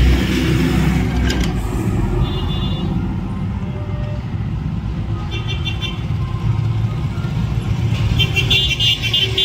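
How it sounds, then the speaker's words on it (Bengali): A tractor fully loaded with a large sound system of 6D speaker boxes rumbles past on a rural road, a heavy continuous engine drone with brief horn toots and traffic noise. "একটা ট্রাক্টর পুরো ভর্তি"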